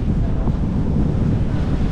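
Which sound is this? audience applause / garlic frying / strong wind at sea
strong wind at sea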